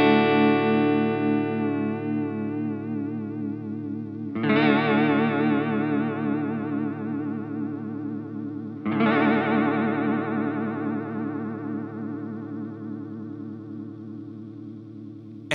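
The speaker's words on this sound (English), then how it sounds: "Just listen to the sweep of the speed knob again." A guitar runs through a BBE Mind Bender chorus/vibrato pedal while the speed knob is swept, so the pitch wobble changes rate. Three sustained strummed chords ring out in turn, each warbling and fading, with no talk.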